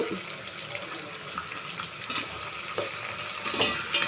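Onion, green chilli and tomato stirred in a pan for vegetable pulao, a steady scraping and sizzling texture with a few louder clinks near the end, no voices.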